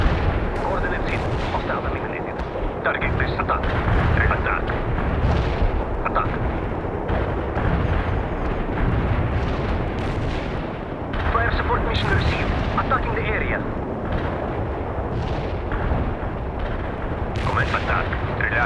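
Heavy artillery barrages in the World In Conflict strategy game rumble and boom continuously, with dense overlapping blasts and a radio voice speaking over the bombardment.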